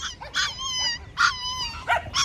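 Several high-pitched dog barks and yelps in short bursts, fairly close, with brief whiny pauses between them.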